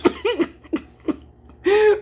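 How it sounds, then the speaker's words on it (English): A person coughs in a run of short, harsh bursts, about five in quick succession, ending in a longer rasping cough, close and loud with no speech. "Damn, I can't stop coughing."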